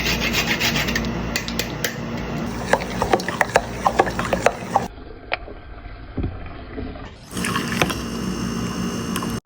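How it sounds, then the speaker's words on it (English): Fresh nutmeg scraped over a grater for a Jamaican carrot punch, giving a series of close, dry rasping strokes with short gaps and a brief pause partway through. "Freshly grated nutmeg."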